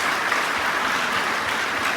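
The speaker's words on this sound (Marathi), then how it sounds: "तुमच्या संस्था चालक मुख्याध्यापकासाठी जोरदार टाळ्या वाजवल्या पाहिजे एकदा" An audience at a Shivaji Jayanti lecture applauds the school's trustees and headmaster, a dense, even wash of many hands clapping that holds steady throughout with no voices.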